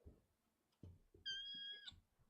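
A cat lets out a single clear, drawn-out meow indoors, preceded by a few soft thumps and rustles in a quiet room.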